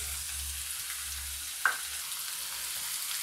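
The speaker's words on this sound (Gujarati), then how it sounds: "ડુંગળીને આપણે થોડી વાર માટે ચડવા દઈશું" Chopped onions frying in oil with cumin, asafoetida and green chillies give a faint, steady sizzle throughout, with one brief clink of a utensil partway through.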